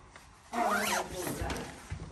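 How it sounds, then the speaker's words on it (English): A coat being zipped up during a try-on, a quick rising rasp of the zipper teeth followed by a brief rubbing of fabric, close and fairly loud. "I'm going to zip it up."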